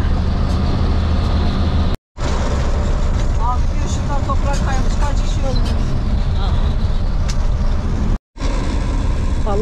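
A truck ride gives a constant loud rumble of engine and road noise inside the cab, with jolts and rattles from the bumpy road, and people talk over it throughout.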